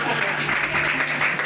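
Audience applause rises as a dense, steady wash of clapping, moderately loud, with voices mixed in underneath throughout.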